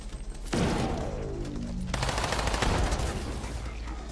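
A rapid, loud burst of gunfire erupts as a gun is emptied in the video game System Shock (2023), the shots running together for about a second and a half before dissolving into a dense, rumbling tail with no talk.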